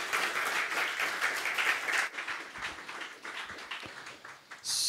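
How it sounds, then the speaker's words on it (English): An audience at an evening tech talk applauds a speaker, dense clapping for about two seconds that thins into scattered claps before a brief closing swell. "let's have one more round of applause for Cesar."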